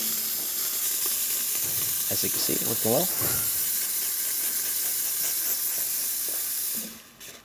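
The steam wand on an ECM Technika IV espresso machine hisses loudly and steadily right after a full tune-up, a broad close rush of steam that cuts off near the end, while someone briefly talks over it.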